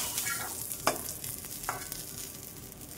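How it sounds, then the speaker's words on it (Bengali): An onion frying in leftover oil in a pan, a soft, fairly faint sizzle with a few scattered stirring scrapes. "তেলের মধ্যে একটা পেঁয়াজ ভেজে নেব এখন"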